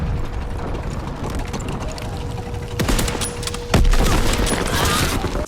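Rapid bursts of gunfire in a shooter video game beta, crackling automatic volleys with sharp individual shots over a constant mechanical game background, fairly loud and close.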